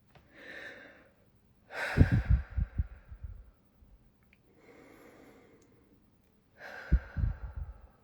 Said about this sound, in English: I'm going to breathe, and take 3 deep breaths.